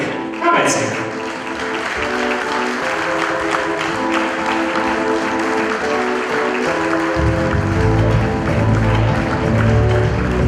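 Guests at an Armenian wedding reception applaud continuously and loudly while a voice announces over a microphone and music plays beneath, with one sharp hit at the start.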